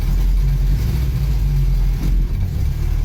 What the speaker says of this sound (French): on a réussi à redémarrer le moteur.